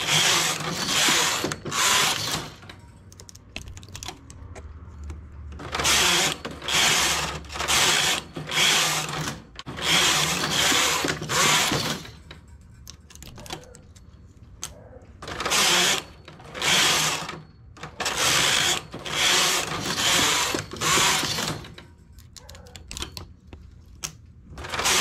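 A domestic knitting machine works rows on a sleeved vest, its carriage sweeping back and forth in loud rhythmic mechanical passes separated by brief pauses, close and steady with no talking.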